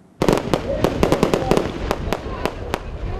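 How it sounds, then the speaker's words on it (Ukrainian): Colourful fireworks salute opening a motocross competition for a factory cup: a rapid series of sharp, loud bangs, clustered at first and then spaced farther apart, over a rumbling outdoor background. "Кольоровий салют дає старт змаганням з мотокросу"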